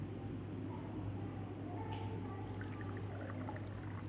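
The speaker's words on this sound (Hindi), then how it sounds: "इधर मैंने एक बॉल ली है और ये छन्नी है। तो अभी मैं अब इसको मैं छान लूँगी।" Spice-laced water poured through a kitchen sieve into a bowl gives a faint, steady trickling wash that runs throughout with no talk over it.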